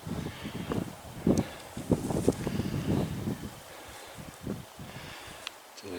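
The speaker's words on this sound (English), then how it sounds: "Wind's in our face" Gusty wind at the head of the Harkness Valley in the mountains buffets the microphone with low, uneven rumbling bursts that rise and fall throughout.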